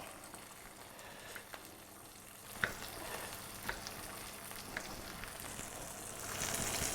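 A pot of salted water at a rolling boil for blanching vegetables in a kitchen gives a steady bubbling hiss with scattered light clicks and pops, swelling slightly louder near the end.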